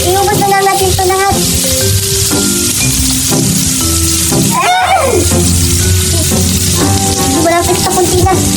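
Fishballs and hotdogs frying in a pan of hot oil, with loud continuous sizzling and crackling spatters heard close up, while people talk and exclaim over the cooking.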